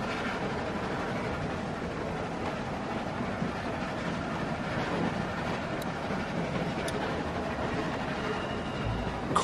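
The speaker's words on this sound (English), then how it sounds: "Stop the train." Moving train in The Walking Dead game: a steady rumbling rattle of wheels and carriages runs throughout at an even, continuous level with faint metallic clicks, and no clear voices.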